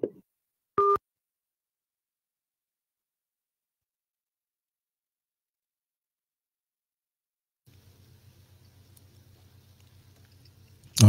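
Repeating telephone busy signal after a radio call-in listener's line drops, a steady pulsing tone that starts late and runs to the end after a brief earlier beep.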